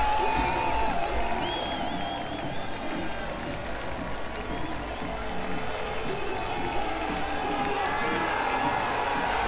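Crowd at the 2023 UCI Cyclo-cross World Championships awaiting the women's under-23 podium: a sustained, distant wash of cheering, chatter and whistles with a few brighter shouts, steady throughout.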